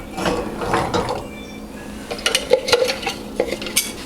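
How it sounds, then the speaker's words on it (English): Light clinks and taps of eggshells against a bowl while eggs are cracked and separated for homemade vanilla pudding, a few close kitchen knocks with soft clatter of dishes, no talking. "I'm going to go ahead and separate my eggs"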